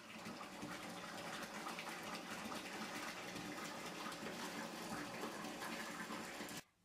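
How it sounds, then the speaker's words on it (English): Tap water gushes steadily into a bathtub, a continuous loud rushing fill that runs alone without voices and cuts off abruptly near the end. "So I am going to fill up my tub a little bit more and hop on in here"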